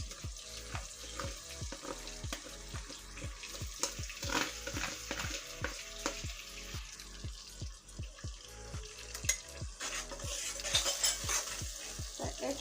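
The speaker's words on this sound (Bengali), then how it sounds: "মশলা সব সুন্দর করে একটু কষিয়ে নিচ্ছি" Spices sautéed with yogurt in a pan, a quiet sizzle under a long run of regular, rapid stirring scrapes and clinks of a spoon against metal, with no talk.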